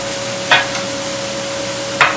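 Chives being stirred into a dip for potato pancakes: two brief, soft scrapes of a utensil in a bowl, well apart, over a steady background hum.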